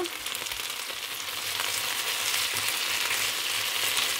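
Chicken malai tikka fries in a pan as the pieces are turned, giving a steady, close, broadband sizzle that grows slightly louder partway through, with no talking.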